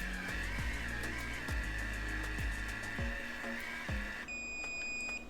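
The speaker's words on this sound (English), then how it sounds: "Wait for it to beep. It'll beep at you so then you know." A hair curler gives a steady high electronic tone, then switches to a brief sharp beep near the end when ready, over low background noise and soft clicks.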